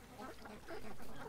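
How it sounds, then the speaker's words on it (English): Ducks quack on a creek crowded with the birds, a steady overlapping chatter of calls at moderate distance. "The creek full of ducks."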